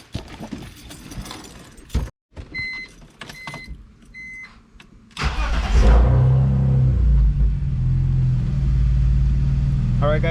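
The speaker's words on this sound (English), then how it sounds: "Put the cap, and we'll let the car run for 5 minutes." A car engine idles steadily after an oil change done with an engine flush, a loud continuous low rumble that starts partway through, following earlier clicks and mechanical handling sounds with some voice.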